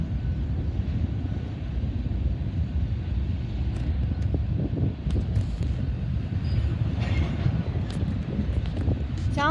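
A freight train rolls through Garretson, South Dakota as if slowing to stop: a continuous low rumble with scattered clanks and a thin squeal near the end.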